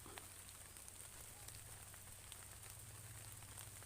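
Heavy rain pours steadily over an outdoor fishing spot in the early morning, a dense continuous hiss with scattered drip ticks and a low rumble underneath, with no voices.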